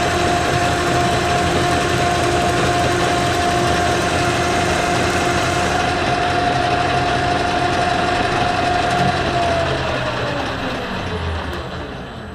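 Metal lathe taking a finish cut with a gold Adam Booth chip-breaker tool, a steady loud mechanical drone with a thin sustained whine that holds, then slowly falls away as the spindle winds down near the end.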